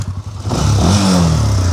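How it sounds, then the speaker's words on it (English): Honda 400EX ATV engine, long stored, revving up close and loud from a choppy idle into a sustained rising roar, with a ticking clatter in the engine note. "I mean, dude, it sounds pretty good. It's got the standard 400EX tick."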